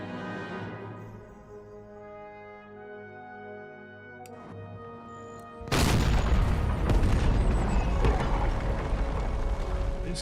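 Cannon fire from artillery in the strategy video game Empire: Total War, a sudden loud boom cutting in midway and rolling into dense, sustained battle noise over low mechanical game ambience.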